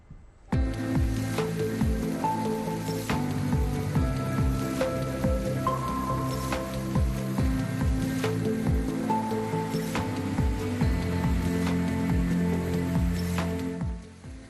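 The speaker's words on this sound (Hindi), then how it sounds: "पूरे गुजरात में इन दिनों झमाझम बारिश हो रही है।" Steady heavy rain falls across Gujarat during the monsoon downpour, a dense continuous patter with drips and splashes, loud and close, holding without pause for about fourteen seconds with no talk.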